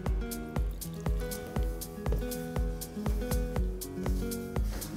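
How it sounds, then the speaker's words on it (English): Wet, squishy kneading of tortilla dough by hand, flour worked together with pork lard and salted water, giving a steady run of soft squelches and slaps about twice a second, close and fairly loud with no talk. "I'm mixing here slowly because you don't wanna over water the flour"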